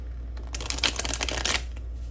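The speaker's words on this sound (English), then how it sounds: "Shuffle again." A deck of cards is riffle-shuffled once, a rapid flurry of crisp flutter lasting about a second over a quiet low hum.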